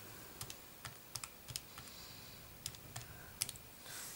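Quiet typing on a computer keyboard, a sparse irregular run of soft close clicks over faint room hiss, with no talking.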